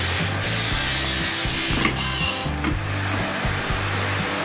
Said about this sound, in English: first of all we will cut a steel rod of required size, and now a 2 square inch of steel plate